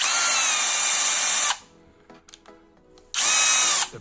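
Parkside 12V cordless drill-driver drilling, two loud, steady bursts of high motor whine, the first about one and a half seconds long, with a short gap of faint clicks and handling noise between them.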